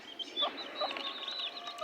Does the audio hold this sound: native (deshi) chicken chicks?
yes